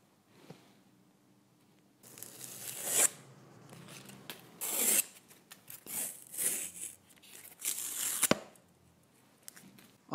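Sandpaper rasps against the beveled edge of a cardboard sword blade in short, irregular scrubbing strokes close by, separated by brief pauses.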